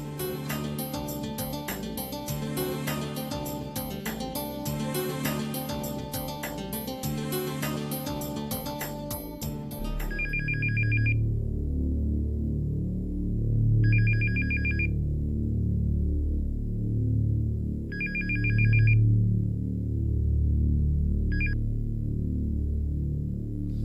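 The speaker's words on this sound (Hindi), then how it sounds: "देखना आबरू किसका फोन" A telephone rings inside a home in a Pakistani TV drama: after about ten seconds of background music, four loud, evenly spaced electronic ring bursts sound over a low room hum, with no one speaking.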